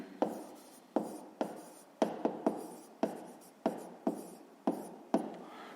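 A pen writes numbers by hand while a fifth-grade math exercise is worked out, giving a steady series of about a dozen sharp, close scratching strokes with short pauses between them.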